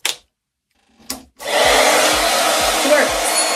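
A rose gold Marc Anthony blow dryer gives a couple of short bursts, then switches on and runs with a loud, steady close-up whoosh and motor whine.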